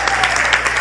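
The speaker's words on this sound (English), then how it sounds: "give yourselves a big hand" Dense applause from a comedy show audience, steady and loud throughout, filling the room with continuous clapping.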